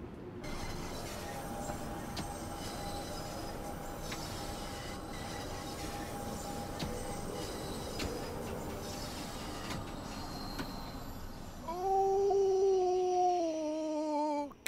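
A London Underground Bakerloo Line train in Train Sim World 4 runs with a steady rumble and clatter of wheels on rail, then tonal squeals rise as it slows near the end.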